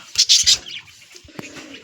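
Pigeons coo nearby in a short burst of several quick rising calls, then quieter rustling and a faint coo, with no voices.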